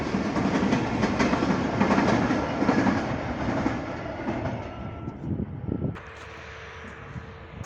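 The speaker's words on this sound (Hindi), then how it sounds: "ये देखें, इस लम्हे का मैं बहुत देर से इंतज़ार कर रहा था कि ट्रेन गुजरे" A train crosses the old Ling railway bridge (No. 486) near Sihala with a heavy rumble and rhythmic clickety-clack, then the sound drops away abruptly as the cars pass.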